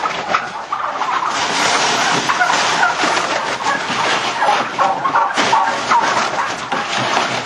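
A crowd of turkeys being moved in and out of a flatbed trailer on a farm, making a loud, continuous mass of gobbling and squawking close by, with little talk.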